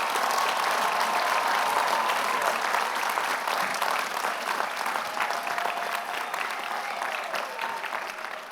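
Commencement audience at Carnegie Mellon University applauding a student speaker: sustained, dense clapping from a large crowd, steady and loud throughout, fading slightly toward the end, with no talking over it.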